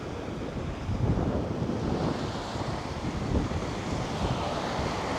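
Surf washes steadily along Samae Beach on Koh Larn island, a broad continuous roar of waves mixed with gusty wind buffeting the microphone, with no voices.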